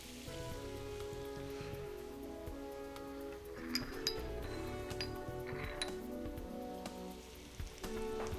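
Pork shoulder pieces browning in a hot pan give a steady, crackling sizzle with scattered pops and spits, moderately loud and continuous, with no voices.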